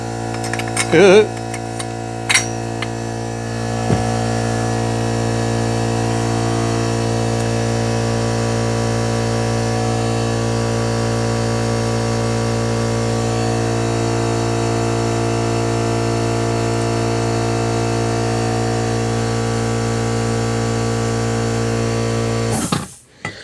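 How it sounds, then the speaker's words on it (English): An air compressor runs steadily in a workshop during a Yamaha YZ250 bottom-end rebuild, a constant loud motor hum with strong low tones that holds for about twenty seconds after a few clanks, then cuts off at the end. "And the compressor comes on."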